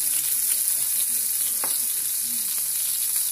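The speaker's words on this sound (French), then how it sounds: "je vais plonger ma petite tomate maintenant. Donc on fait attention parce que ça saute avec l'huile d'olive" A tomato frying in olive oil with a steady, fairly loud sizzle close by, broken by a few sharp spattering pops and light scraping, with no voices.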